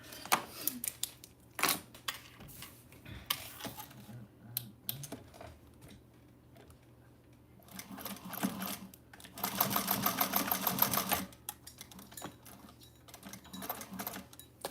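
Sewing machine running in several bursts as it stitches back and forth over the ends of zippers on a Siah Sidekick bag, the longest run loud and steady near the end, with short gaps of handling noise between.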